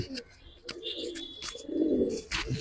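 Low pigeon cooing swells in the background among scattered clicks and brief chirps, with a thin high whine and some nearby movement.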